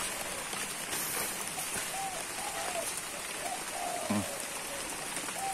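Steady rain patters on a surface outdoors at a farm on an overcast day, forming an even wash of hiss with occasional faint bird calls in the background.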